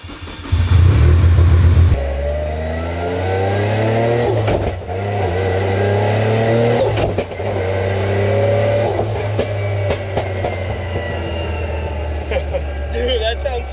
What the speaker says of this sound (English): we're gonna get the car started up